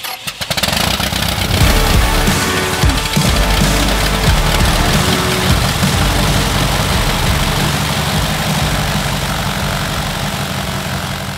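A homebuilt aircraft engine runs loud and close on its first start, with a continuous rough, low-pitched drone held steady throughout after a brief sputter at the beginning.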